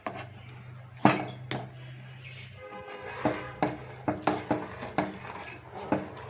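A metal cooking pot being swapped during fish curry preparation: a few scattered clanks, then a run of quick, fairly faint metallic knocks and clatters from vessels handled on a stove.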